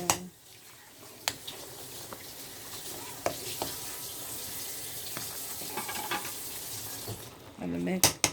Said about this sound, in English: The rice is simmering down